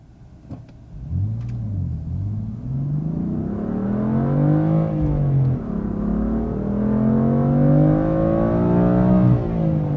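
A stock BMW M3 accelerates hard from inside the cabin, its engine note climbing through rising revs, dipping at a gear change and climbing again, loud and close throughout.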